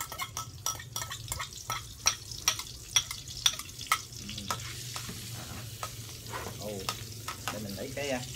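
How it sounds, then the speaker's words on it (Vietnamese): Minced garlic fries in lard in a dry pan, crackling and sizzling steadily with sharp intermittent pops and occasional stirring scrapes, close and fairly quiet while snails are prepared for steaming with pepper. "khô chảo cho mỡ vào đó, miếng mỡ thôi. Mình cho tỏi, đầy tỏi,"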